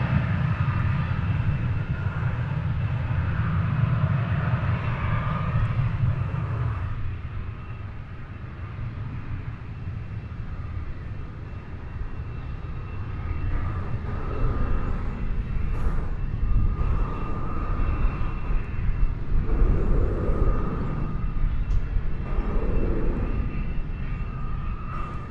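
A 170 jet on the runway at DFW, on a flight to Fort Smith, Arkansas, produces a steady, broad engine roar that runs the whole time with a heavier low rumble at first and then holds at a moderate distance.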